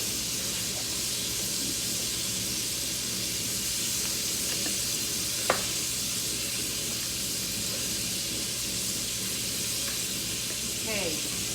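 Bacon and a ground meat mixture seasoned with sugar, salt and pepper sauté in a pan, giving an even, steady hiss with a single sharp click partway through and no clear talk.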